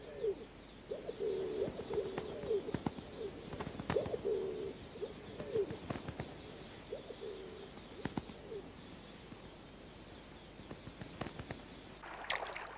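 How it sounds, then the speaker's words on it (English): Rock pigeons cooing in a wild African setting, a series of soft, low, rolling coos repeating through the stretch amid faint ambient noise and scattered clicks, fading out toward the end. "Rock pigeons mate."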